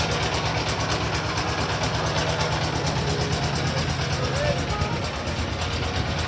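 A trawler's engine drones steadily at a low, even pitch while cruising past hillside waterfalls on a lake, continuous and fairly close.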